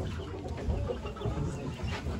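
A chicken and rooster at a Turkish live animal auction cluck in short, low irregular bursts over a busy, muffled background of crowd noise.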